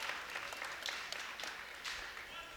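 A small cheering section at a high school boys' basketball game applauds steadily, a dense wash of clapping throughout, with faint voices mixed in.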